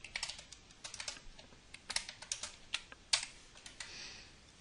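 Rapid, irregular keystrokes on a computer keyboard while C# databinding code is entered, with crisp clicks close up and a brief flurry near the end, no voices.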